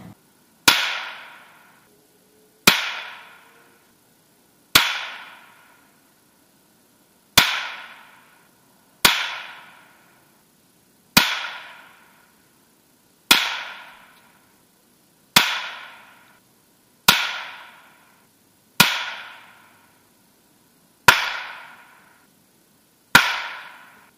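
A .22 rifle fires CCI and Aguila ammunition while shooting groups: about a dozen single sharp cracks, spaced roughly two seconds apart, each with a short fading ring, close and loud with no talk.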